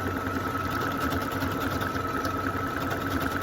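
A sewing machine running a locking stitch on a Christmas candles appliqué table runner, a steady mechanical hum with fine rapid needle rhythm, close and continuous with no talk.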